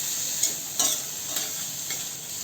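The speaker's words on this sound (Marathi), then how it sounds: "गवार टाकल्यावर परतून घेऊ चांगलं" Cluster beans sizzle steadily in a hot pan as they are sautéed, with a few soft scraping stirs of a spoon over the constant frying hiss, close and without speech.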